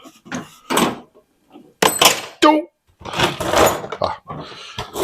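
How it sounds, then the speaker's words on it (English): A small metal tool drops and clatters with a few bright, quick knocks during rear brake line flaring work, set among spoken talk. "It's a good thing my little tool fell"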